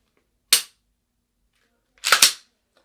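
Pistol fire at a shooting range: one sharp, close shot rings out, then after a pause a second report comes as a quick rattling double burst. Near-silence surrounds both.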